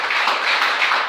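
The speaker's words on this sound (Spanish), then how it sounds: "Den un aplauso al Señor, por favor, en esta noche" Steady applause from a church congregation during an evening service, a dense even wash of clapping that holds for the whole moment without a break.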